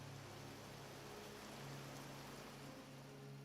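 Rain in the Vintage Story video game, heard through a chimney as a continuous, even hiss of falling water with a low steady hum beneath it, fairly faint and with no voices.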